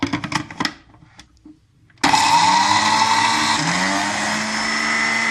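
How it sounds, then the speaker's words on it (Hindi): An electric grinder jar coarsely crushing garlic, starting abruptly after some quiet handling noise and then whirring loud and steady close by, with no talk. "अब हम इसी जार में अपना ये लहसुन को ग्राइंड करेंगे।"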